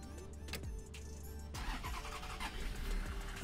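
In Tourist Bus Simulator, the engine of a BB40 minibus cranks briefly and catches, then settles into a steady low rumble, close and fairly quiet, with no talking.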